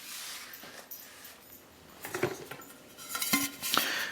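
Lightweight GSI Pinnacle Camper nesting camp cookware clinks and rattles as pieces are handled, with soft scrapes and a few sharper metallic knocks close by and no talk.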